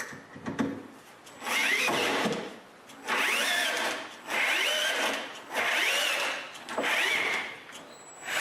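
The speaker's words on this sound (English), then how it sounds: "I drill some holes into the aluminum rails and screw it to the shelf" Power drill boring holes into aluminum rails for a wooden folding shelf, five or six whining bursts of a few seconds each separated by short pauses, close and fairly loud.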